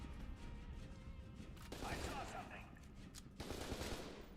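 Pistol gunfire in the shooter F.E.A.R. 2: rapid bursts of shots over constant game noise and music, with a voice talking across much of it.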